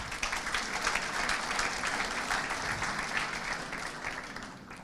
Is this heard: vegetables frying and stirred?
no